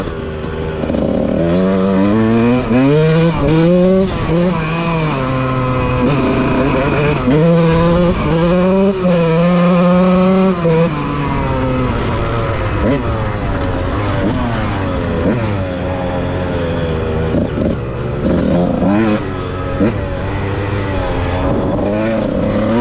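Two-stroke RM125 and CRZ125 dirt bikes ride across a meadow in 2023, their engines buzzing loudly and repeatedly revving up and down, close by and continuous.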